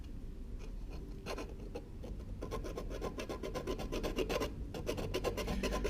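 A round file rasps across an aluminium number plate for a Toyota 86 GTS in quick back-and-forth strokes, close and steady, getting busier and denser partway through, with no voices.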